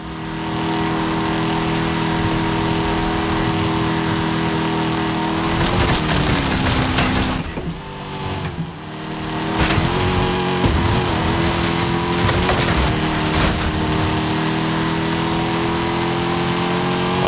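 Jeep Trackhawk driven hard in Forza Horizon 5, its engine a loud, sustained drone with steady harmonic tones, broken by a couple of brief dips and shifts in pitch as it accelerates and changes gear.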